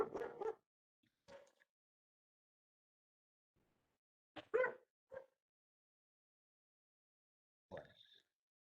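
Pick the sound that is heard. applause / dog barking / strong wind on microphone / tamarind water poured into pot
dog barking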